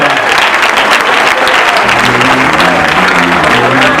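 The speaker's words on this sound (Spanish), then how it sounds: "Let's clap our hands." A church congregation claps steadily and loudly, sustained applause filling the whole stretch with a faint musical tone underneath.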